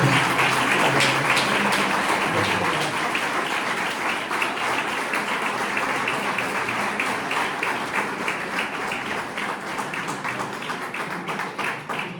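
Steady, enthusiastic applause from a crowd in a parish church, many hands clapping continuously for several seconds without a break.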